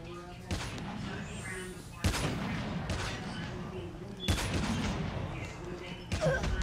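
Gunfire in the mobile shooter game Call of Duty Mobile comes in sharp, thumping bursts over a dense, continuous layer of battle noise, with shots recurring every couple of seconds.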